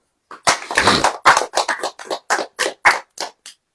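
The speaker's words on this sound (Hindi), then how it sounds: "ताली बजाओ" A church congregation claps hands at a sermon, a quick run of about a dozen distinct, fairly close claps in an uneven rhythm, with no voices.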